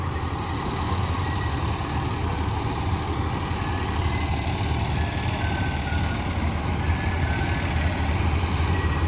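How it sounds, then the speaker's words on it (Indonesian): An intercity bus idles inside the Balai Solo bus terminal in Sumbar, a steady low diesel rumble with constant engine noise and no pauses, close by and fairly loud. "admin akan mereview bus akap yang berada di dalam terminal Balai Solo, Sumbar bosku."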